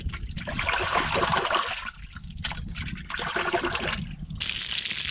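Cooked mud crab claws rinsed under running water outdoors, with a steady rushing, splashing stream that briefly dips and resumes, close and fairly loud, with no talking.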